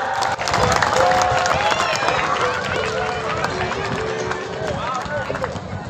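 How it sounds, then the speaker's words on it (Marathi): A crowd at a temple consecration ceremony on a hilltop gives loud, sustained applause for a saint, dense clapping mixed with cheering and overlapping voices, holding steady for several seconds. "उद्धव महाराज मंडलिकांसाठी जोरदार टाळ्या."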